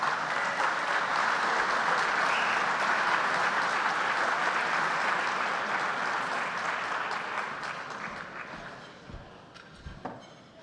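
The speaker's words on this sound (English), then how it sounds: "Let's give a nice round of applause to the next presenter" A dinner audience claps in a sustained round of applause for the next presenter at a formal event; it stays dense and loud, then thins out toward the end.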